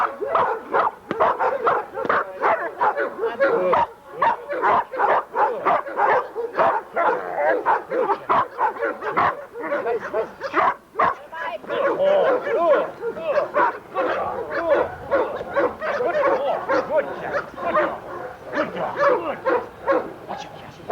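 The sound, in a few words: dog barking during bite training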